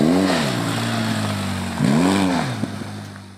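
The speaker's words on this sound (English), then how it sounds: "high RPMs in first gear, blip the throttle until the wheel breaks traction" A dirt motorcycle in first gear at high revs, its throttle blipped twice in sharp rising-and-falling bursts to break the rear wheel loose, loud and close over a steady idle drone, with no voices.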